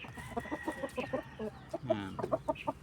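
Small silky hen clucking close by in a backyard coop, a steady run of short, rhythmic clucks with a louder, drawn-out call near the end.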